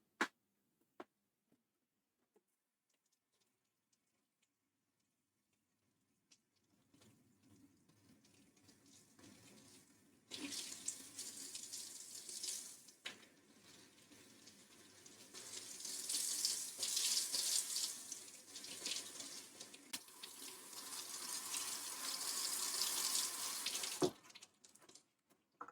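Tap water runs into a sink for a rinse, starting as a soft trickle and swelling into a steady, loud broadband gush that fills most of the clip before cutting off at the end.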